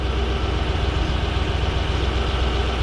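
A Toyota Hilux Xtra Cab with a 1UZ V8 engine idles warm, a steady low rumble held close and even throughout with no voices.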